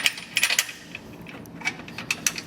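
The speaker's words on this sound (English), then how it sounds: "We're trying to pull this bolt through." A bolt being drawn through the frame of a 2015 Jeep Wrangler Unlimited with a pull wire, heard as a few close, light metallic clinks and scrapes in short scattered bursts, with no talking.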